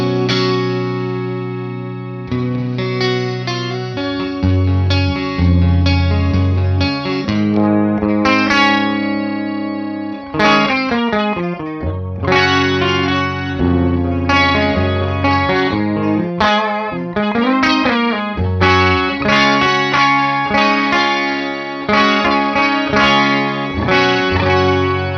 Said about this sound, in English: So this is like an octave sound, but I bet you could get your guitar to sound almost like a 12 string with this.